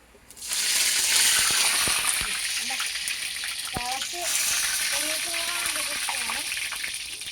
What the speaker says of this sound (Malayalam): ഇനി എണ്ണ ചൂടായിക്കൊണ്ടിരിക്കുകയാണ് ഇനി നമ്മുടെ സ്വന്തം രണ്ട് കരിയാപ്പല കുട്ടന്മാരിടാൻ പോകുന്നു